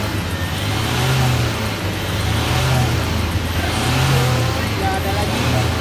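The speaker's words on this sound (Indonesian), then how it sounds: "Sekarang pengen coba digas" A Toyota Fortuner 2012 diesel with a VNT turbo revs steadily after fuel purging, a loud, sustained engine roar that swells and eases in repeated waves with people talking over it.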